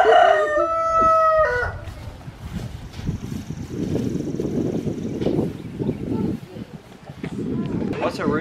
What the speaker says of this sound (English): What's a rooster say?